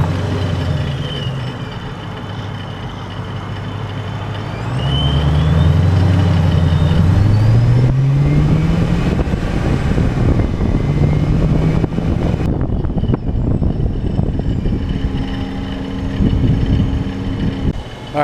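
Procharged 5.7 Hemi engine accelerating, its rising supercharger whine climbing in pitch over a steady loud engine drone, then dropping back as the throttle eases.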